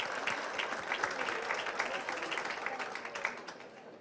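Applause from the audience at a political party plenary assembly, a dense patter of clapping that swells and fades over a few seconds, with a voice speaking over it.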